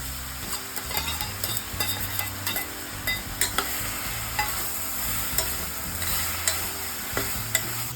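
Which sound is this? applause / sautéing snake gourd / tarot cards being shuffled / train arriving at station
sautéing snake gourd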